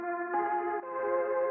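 A vintage-style chord sample is processed through Decapitator saturation, EchoBoy echo and Tremolator. It rings as a sustained, harmonically rich chord that shifts voicing twice, warm and slightly wobbly, with no talking.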